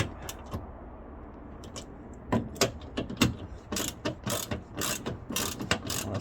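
Ratchet clicking in bursts while tightening a bolt on the plastic hood latch of a 2013–2015 Hyundai Santa Fe, outdoors in cold weather; close, crisp pawl clicks that grow quicker and denser partway through.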